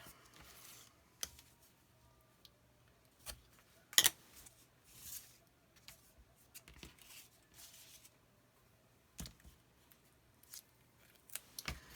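Scissors snipping paper for a handmade recipe folio album, scattered single cuts and light clicks spread across a quiet stretch, faint and close, with no one talking.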